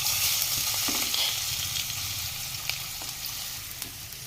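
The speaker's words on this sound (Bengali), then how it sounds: "আমি এখন মাখিয়ে ম্যারিনেট করা চিকেনটা তেলের মধ্যে দিয়ে দিলাম" Marinated chicken fries in hot oil in a kadai, giving a steady, fairly loud sizzle with a few faint clicks and scrapes of stirring, and no voices.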